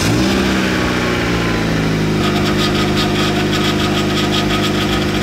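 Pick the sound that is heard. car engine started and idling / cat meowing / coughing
car engine started and idling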